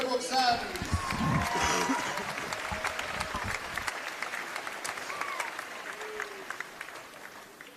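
At a Division 1 women's grand final between Warrnambool and Sherbrooke, a crowd applauds the Sherbrooke Suns with steady clapping that starts strong and slowly thins, under voices and announcer talk.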